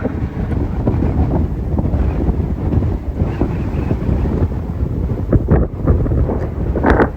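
Strong wind on Saunders Island in the Falkland Islands near a king penguin colony, a steady loud buffeting roar with gusty rumbles battering the microphone throughout.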